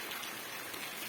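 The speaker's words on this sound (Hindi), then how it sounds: "बारिश हो रही है, बहुत अच्छा मौसम हो रहा है।" Steady rain patters down in a dense, even hiss with no voices.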